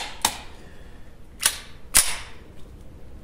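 Three sharp, quiet cracks from a Ruger MK IV .22LR pistol firing in a steady sequence, fairly faint and distant, with no talking.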